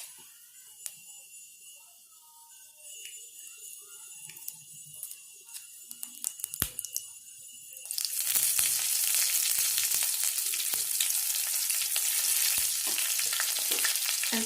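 Green chilies drop into hot oil already holding fennel seeds and kasuri methi, starting with light crackles and clinks, then erupting into a loud, steady sizzle that fills the rest of the pan sound, with no talking.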